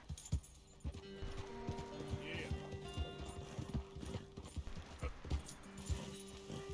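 Rhythmic hoofbeats of a galloping horse in Red Dead Redemption 2, a quick steady clip-clop with occasional snorts and jingling tack, moderately close and fairly quiet.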